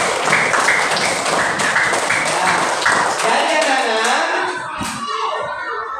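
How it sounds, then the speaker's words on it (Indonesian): Children clap their hands in steady rhythmic beats during a classroom religious lesson, close and lively for a few seconds before fading as a teacher speaks over them. "Ya, tepuk tangan nih."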